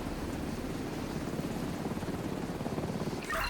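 A video game helicopter drones with a close, steady rotor thump, its rhythmic blade beat continuing unbroken and loud until a brief higher noise cuts in at the very end.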